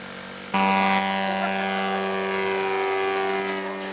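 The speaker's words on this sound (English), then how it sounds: "The Flying Tigers Remote Control Club in Lake City has some 45 members that love flying their model planes." A remote control model airplane from a club of hobby flyers drones steadily overhead, its small engine giving a loud, sustained buzzing whine that holds for several seconds.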